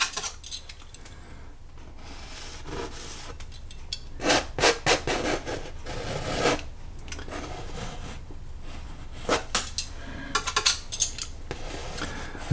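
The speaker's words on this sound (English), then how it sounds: "Scraping off the excess paint." Painting knife scraping excess oil paint off a canvas, steady rasping strokes with sharper scrapes and clicks in irregular clusters, close and alone.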